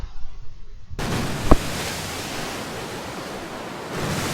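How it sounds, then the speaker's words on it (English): Loud broadband rush of surging water bursting through a room in the puzzle game 999, a sudden wall of noise that kicks in after a near-silent second, with a brief thump, then sustains steadily to the end. "Accompanied by a wall of angry water, Junpei shot out of the room"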